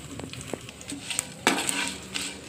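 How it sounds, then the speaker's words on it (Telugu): Dry red chillies, mustard seeds, cumin and curry leaves crackle and sizzle in hot oil for a Telugu tempering, with sharp pops, a sudden louder burst of frying midway and a spoon clinking against the pan, no talking. "ఇప్పుడు తాలింపు వేసేద్దాం. పోపులు వేసేస్తున్నాను. ఎండుమిర్చి, ఆవాలు, జీలకర్ర, కరివేపాకు"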